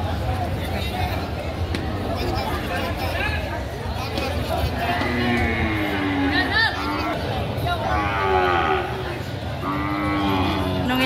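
Cattle moo at a busy Philippine livestock market, their low calls rising over constant crowd chatter and haggling voices.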